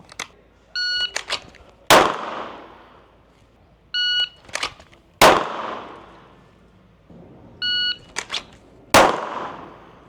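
A Canik TP9 DA pistol fires three sharp, loud shots in double action, spaced about three seconds apart. Each shot is preceded by a short burst of electronic beeps, and the sound rings out briefly after every report.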